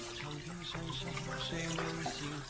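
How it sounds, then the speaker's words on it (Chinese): Water runs steadily from a tap while celery stalks are rinsed clean, a continuous splashing flow with no break. "然后放入清水里，把每根芹菜都清洗干净"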